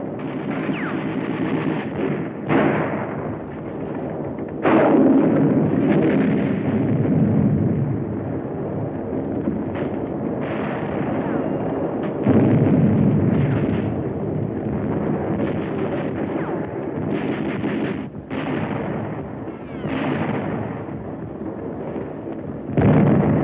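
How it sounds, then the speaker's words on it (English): A shoulder-carried rocket gun and other weapons fire in a wartime battle on New Britain, with loud bursts, booming blasts and rumbling gunfire repeating over about twenty seconds against windy, muffled noise. "Carried rocket gun. Firing it takes close teamwork."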